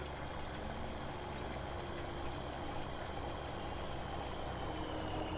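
A small Massey tractor idles in Farming Simulator, giving off a steady, low, even engine hum at a quiet level with no other sounds or voices.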